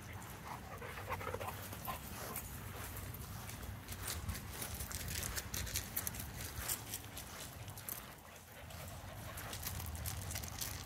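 A puppy pants quickly and steadily at close range for several seconds, with rustling and scuffing underneath and no clear speech.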